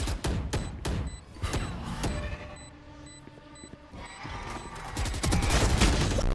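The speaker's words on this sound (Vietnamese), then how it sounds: "Kia nghe thấy tình huống bắn ở trên lầu anh nào kia" Repeated gunfire rings out upstairs in a Valorant match, with bursts of sharp shots, some close and loud and some quieter, plus a faint repeating beep.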